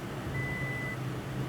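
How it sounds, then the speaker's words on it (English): A single steady warning tone from a 2018 Toyota Tacoma sounds for about half a second, thin and moderately loud over a constant engine and cabin hum. "Excuse the beeping of my car here."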